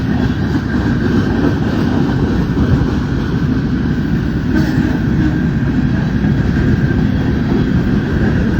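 Freight train with Southern Pacific cars passing close by, a loud, steady low rumble and rolling roar that continues unbroken throughout.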